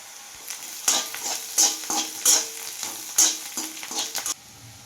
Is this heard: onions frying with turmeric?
yes